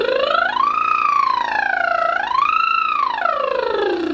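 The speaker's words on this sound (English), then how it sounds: "lip trill moving up and down your register, warming that up as much as you can" A singer's lip trill warming up through the upper register, one sustained loud voice gliding smoothly up, down, up again and falling away, with no other sound around it.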